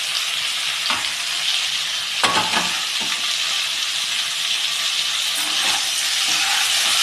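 Vegetable fried rice with boiled cauliflower florets sizzles steadily in a hot pan while a spoon or spatula scrapes and clinks as it is stirred, up close with no talk.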